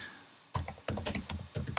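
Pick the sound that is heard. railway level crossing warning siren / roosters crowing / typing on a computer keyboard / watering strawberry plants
typing on a computer keyboard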